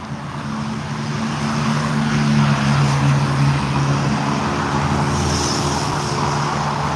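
Steady roar of cars streaming past on a busy road, constant and fairly close throughout, with a low engine drone and tire hiss, no talk.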